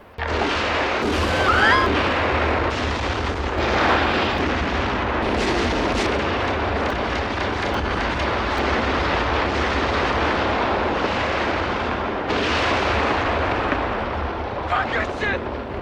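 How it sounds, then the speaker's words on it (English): Continuous heavy explosions and gunfire boom and crackle throughout, loud and dense, with scattered voices under the din. "I've never seen so many explosions take place a few meters behind people."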